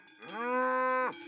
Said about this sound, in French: Hoor je dat? We zijn het land van de koeien binnengedrongen, jongens.